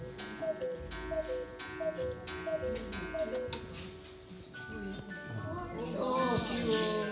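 A Black Forest cuckoo clock ticks in a steady, even rhythm, faint and close, with a light metallic chime near the end while people talk softly nearby.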